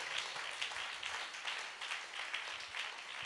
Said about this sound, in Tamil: என்ன விசுவாச கைத்தட்டு.